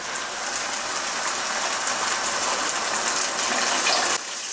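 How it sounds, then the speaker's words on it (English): Hot water pours steadily from close by into a pan of rice being cooked Mexican style, a continuous loud splashing gush that stops abruptly at the end. "Then we're gonna go ahead and add our 3 cups of water."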